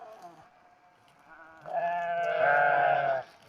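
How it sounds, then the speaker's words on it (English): Sheep bleat nearby, a wavering cry that swells into a louder, drawn-out bleat before stopping, with no talking. "And the sheep are hilarious."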